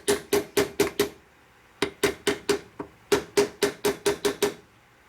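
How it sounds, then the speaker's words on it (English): A hammer strikes the lock tabs on a 1973 stroker Shovelhead four-speed transmission, a crisp metallic tapping in three quick bursts of about five blows each, separated by short pauses, close and clear. "you hit them with a hammer, and maybe they wouldn't move as much"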